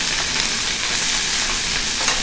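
Chicken, onion and ginger stir frying in a pan over medium heat, giving a steady, close, continuous sizzle with soft scraping of stirring throughout and no talk.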